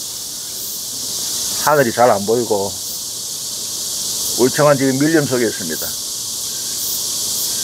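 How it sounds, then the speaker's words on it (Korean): Cicadas sing in the dense, tree-covered woods behind Yongdusan Park in Jung-gu, Busan, on an afternoon. Their steady high drone fills the whole stretch, while someone talks over it twice. "아직도 매미 소리가 들리네요."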